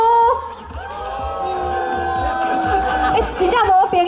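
An audience at an indoor street dance freestyle battle in Taoyuan cheers and whoops loudly for a few seconds, with rising shouted voices over a steady crowd roar and a low beat.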